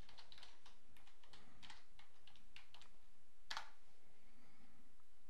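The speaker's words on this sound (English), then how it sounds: "I'm going to type the password." Password being typed on a computer keyboard during Windows domain setup, a quick run of soft close key clicks followed by one sharper tap, then quiet room tone.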